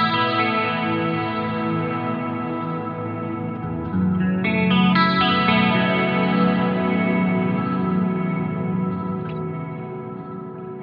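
An electric guitar runs through an Eventide H90 pedal on the Crystals shimmer algorithm with the Ghost Remain preset, sustained chords blooming into glassy, pitch-shifted, reverberant washes that swell and slowly fade, played alone.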